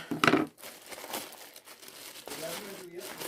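A packaging pouch is torn open with a sharp crinkling rip at the start, followed by softer rustling of the plastic, while someone talks briefly.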